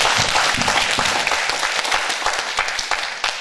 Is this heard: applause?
yes